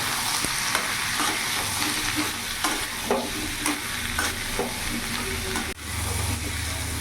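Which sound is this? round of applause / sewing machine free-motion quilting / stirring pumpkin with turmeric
stirring pumpkin with turmeric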